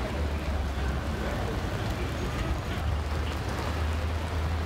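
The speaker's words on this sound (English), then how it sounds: "I want to sit in the rain." Steady rain pours on an outdoor New York City street, a dense, continuous hiss with a low rumble underneath and no gaps.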